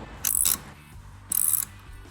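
An 8mm socket on a ratchet tightens the throttle body clamp during a C&L 90mm throttle body install on a 2011-2014 Mustang, with two short bursts of close, rapid clicking separated by a pause.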